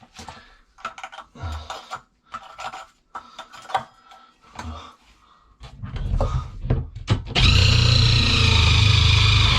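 Scattered clunks and handling noises give way to a loud, steady whirring grind as a hole saw bites into the ceiling for LED lights and keeps cutting.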